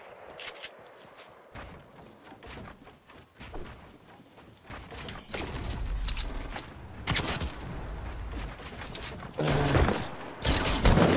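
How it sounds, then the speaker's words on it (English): Light machine gun and minigun fire in a battle royale video game, rapid bursts of gunfire growing louder and denser toward the end, mixed with footsteps and mechanical clatter. "they just sitting there spamming light machine guns and miniguns"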